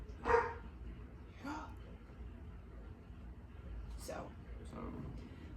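A few faint, distant dog barks come through in scattered bursts over a low steady background hum, with a voice talking quietly nearby.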